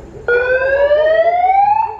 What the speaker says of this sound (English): Alright, Joe, we're gonna try the siren now.